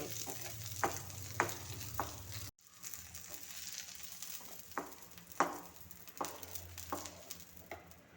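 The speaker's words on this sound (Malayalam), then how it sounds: "ചൂടായ എണ്ണയിലേക്ക് കടുകിട്ട് ആ കടുക് പൊട്ടിക്കൊണ്ടിരിക്കുകയാണ്" Mustard seeds pop and splutter in hot oil nearby with onion and tamarind, sharp irregular crackles over a constant frying hiss, broken by a brief cut partway through.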